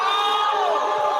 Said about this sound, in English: I knew the crowd was going to boo.